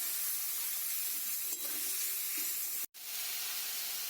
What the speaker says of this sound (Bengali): আমি এবার চিকেন বাটাটা দিয়ে দেবো। খুব ভালো করে এটা কষিয়ে নেব।